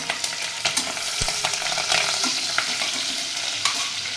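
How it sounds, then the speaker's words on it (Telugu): Onions, green chilies and curry leaves frying in oil in a pan, a steady sizzle broken by sharp scrapes and clinks of a stirring spoon, close and alone. "ఆనియన్స్ కరివేపాకు ఇవి వేగుతూ ఉంటాయండి"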